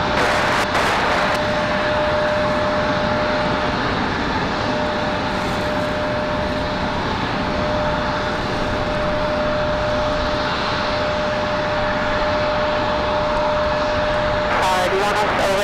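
Delta flight 1405, an airliner departing Raleigh-Durham International at night, holds a continuous engine roar with a steady whine running through it, unbroken for the whole stretch.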